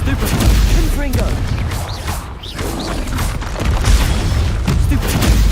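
Confringo, the fiery explosive spell in Hogwarts Legacy, bursts out amid a dense, busy mix of combat noise and rumbling booms, with a voice speaking through parts of it.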